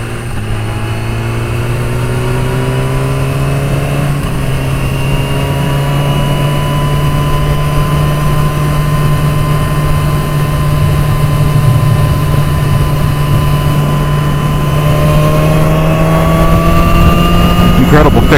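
BMW S1000RR motorcycle accelerating hard, a loud, close engine whine rising steadily in pitch through a long pull with a brief dip around a gear change, heard alone.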